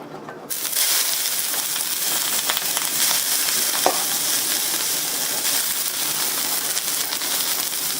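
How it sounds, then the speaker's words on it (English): Cabbage goes into a hot pan and breaks into a loud, dense sizzle that holds steady throughout. A faint clink sounds partway through, and no voices are heard. "So now I'm going to put some cabbage down."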